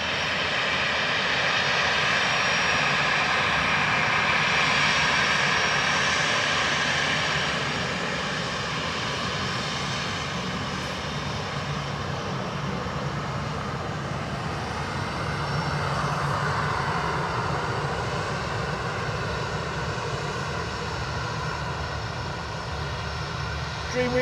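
A Ryanair airliner landing on runway 28 left at Dublin Airport, heard as a steady, loud engine roar that holds throughout and swells slightly midway, with faint voices in the background.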